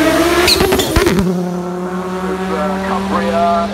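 A Group B rally car with a short wheelbase and four-wheel drive races past at a hillclimb event, its engine loud and close with sharp pops and burps, then settling into a steady drone as it pulls away toward the finish line.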